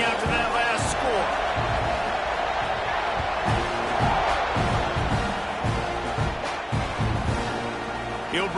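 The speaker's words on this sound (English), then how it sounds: "this crowd is buzzing after that last score" A football stadium crowd buzzes with a steady broad roar after a touchdown, with scattered cheers and whoops rising out of the noise.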